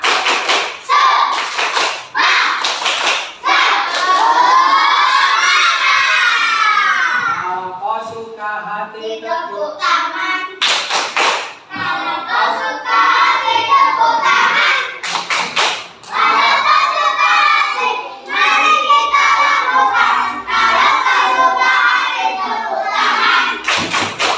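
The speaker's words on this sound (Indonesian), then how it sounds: "Ayo, tepuk 1, tepuk 2, tepuk 3, tepuk semangat." Children and a teacher in an Indonesian classroom perform a rhythmic clap chant, sharp hand claps in quick counted bursts alternating with loud sung or chanted voices, close and energetic throughout.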